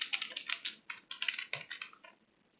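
A computer keyboard typed on for about two seconds to enter a full name at a programming prompt, a quick close run of light clicking keystrokes that stops at the end.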